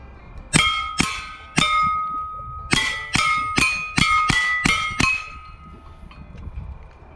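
Rounds from a .22 rifle strike a swinging steel target, giving about a dozen sharp metallic clangs that each ring briefly. They come in a quick, uneven series, fairly close, with no voices.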